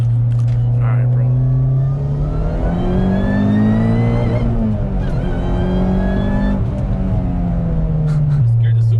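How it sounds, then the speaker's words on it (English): Supercharged 350 hp Honda Civic engine revs loudly and steadily, a rising then falling exhaust note with supercharger whine layered on top, close and continuous throughout. "I love the exhaust note"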